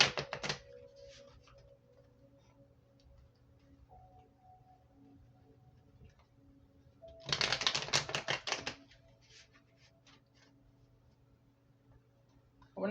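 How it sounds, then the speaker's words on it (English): Tarot cards are shuffled in a quiet room: faint scattered card flicks, then one brief, crisp riffling burst, close and soft. "I'll give it a few more shuffles"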